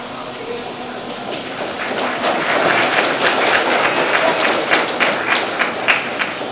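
An audience at a poetry reading breaks into applause, the clapping swelling from scattered claps into a full, sustained round.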